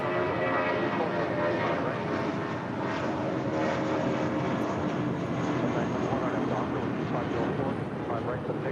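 A jet airliner roars on approach to land at LAX, a loud continuous broadband engine rush that holds steady throughout, with a voice speaking beneath it.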